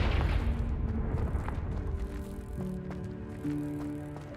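A Confringo fire-blast spell detonates in Hogwarts Legacy: a heavy booming explosion opens loud and close, then rolls into a decaying rumble with faint ringing tones and small debris clatters.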